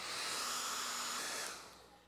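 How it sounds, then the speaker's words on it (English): A small handheld hair dryer blows on painted clay, a close, loud steady whoosh that holds for over a second before winding down and fading. "let me get my trusty little hair dryer here, and we'll try to dry this a little bit"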